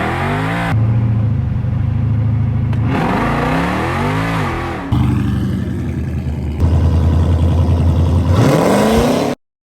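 A Jeep Trackhawk with a 426 engine and Whipple supercharger revs hard in a shop setting, several sustained loud bursts with rising and falling pitch, cutting off abruptly, no talk over it.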